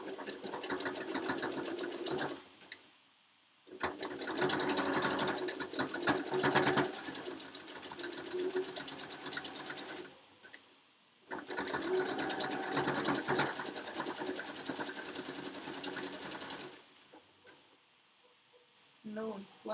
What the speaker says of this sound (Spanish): Vamos a empezar aquí a coser.